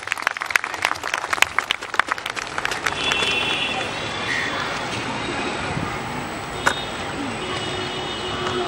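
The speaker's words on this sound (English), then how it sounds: "Ladies and gentlemen, a big round of applause." An audience at the Chakaan Gaan Ngai 2015 festival celebration in New Delhi claps in a burst of scattered applause that soon fades into a steady murmuring crowd and hall ambience, with occasional voices.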